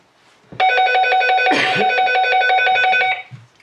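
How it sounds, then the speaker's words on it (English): Call alert from a Cobra Micro Talk CTX545 GMRS two-way radio: a loud, rapid warbling electronic trill with steady pulsing tones, running about two and a half seconds, nearly alone apart from a brief rustle midway. "So let's press the call button on this one."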